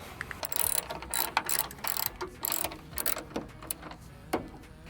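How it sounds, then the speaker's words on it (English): A hand ratchet works loose two 10mm bolts on a pickup truck tailgate, its rapid clicking coming in close, quiet bursts with short pauses between strokes. "These are two 10mm bolts. Step one is going to be removing these."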